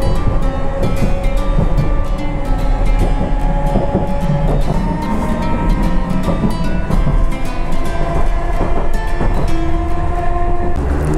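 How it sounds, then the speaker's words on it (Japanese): A Nishitetsu electric train departing a station rumbles steadily close by, with rhythmic clicking wheels and a humming electric motor as it pulls away, loud and continuous. "電車が出発していきます。"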